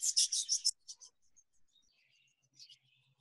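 A young budgerigar hen in a breeding room gives a quick run of high, buzzy chirps, then scattered faint twitters and squeaks, close by in an otherwise quiet space with a soft low hum near the end.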